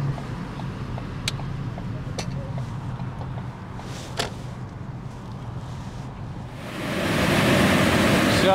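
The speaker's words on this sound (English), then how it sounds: "So this is Dundee Dam and Falls." Dundee Dam and Falls on the Passaic River in Bergen County: a steady broadband roar of falling water runs throughout, swelling louder and brighter toward the end as the falls come closer, with a few faint clicks and no speech.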